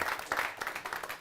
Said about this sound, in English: You can clap and cheer really loudly